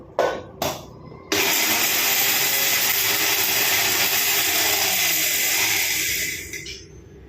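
An electric grinder whirs steadily for about five seconds grinding a fennel spice mix, loud and close, after two short opening bursts, then winds down at the end.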